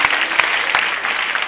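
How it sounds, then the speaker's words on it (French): A church congregation claps loudly together, a dense continuous wash of hand claps from many people with a few sharper accents, filling the hall. "Clap louder, louder than that."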